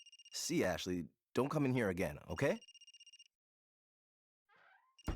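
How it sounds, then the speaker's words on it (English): A phone rings in the video game Another Code: Recollection, its repeated bright trill pulsing steadily under and between a person speaking, then stopping before a faint sound at the end. "That's my phone."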